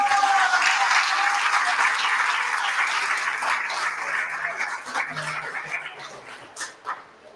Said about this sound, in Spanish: pues otro fuerte aplauso, venga.